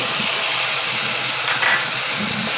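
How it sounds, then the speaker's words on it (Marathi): Tomato puree added to onions fried to pink in a pan for Marathi methi batata bhaji, a loud, dense, continuous hissing sizzle that stays even throughout, with no talking. "आता हे एक टॉमॅटोची प्युरी केली आहे मी ती घालायची त्याच्यामध्ये"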